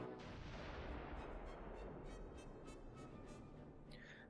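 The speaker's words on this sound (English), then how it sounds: "let the artillery strike that will commence" An artillery barrage in the Close Combat 3 video game: a dense, continuous rumble of heavy booms and blasts that fades slowly toward the end, loud and with no voice over it.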